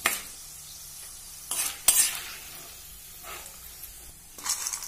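Fried moong lentil dumplings lifted out of hot oil in a pan, with soft sizzling under scraping and stirring of a spoon, plus a few sharp metallic clinks, close up and without talk.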